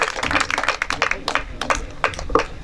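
An audience at a Hindi poetry gathering (kavi sammelan) held for a temple consecration claps in a lively burst of applause, many hands tapping irregularly and fairly close, with no other sound prominent.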